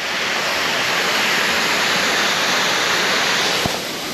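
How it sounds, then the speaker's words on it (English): Steady, dense rush of falling water, loud and continuous, like a waterfall heard from close by in Adjuntas, Puerto Rico, with no voices. "I am gonna show y'all the waterfall one more time"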